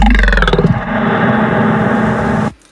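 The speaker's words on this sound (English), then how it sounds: "I have a growl, and the growl goes down into reverb." A deep, gritty synthesized growl rumbles loudly, wavering at first, then settles into a sustained wash of reverb that holds steady before cutting off abruptly near the end.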